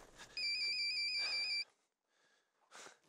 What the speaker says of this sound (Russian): Телефон! У тебя телефон!